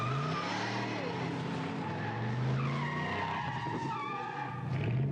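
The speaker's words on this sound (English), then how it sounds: "His entire experiment is just him doing donuts in a mall car park." A car spins donuts in a mall car park with its tires skidding and squealing in long wavering screeches over engine roar. The sound carries some background noise and faint voices.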